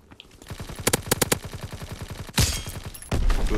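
A Sten submachine gun in Call of Duty WW2 fires in quick rhythmic bursts, each run of close, loud shots separated by short pauses, with a couple of heavier impacts near the end.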